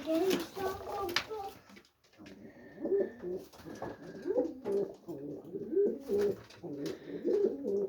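Pigeons cooing in repeated low, throaty rolling calls, close and steady, with a brief pause early on.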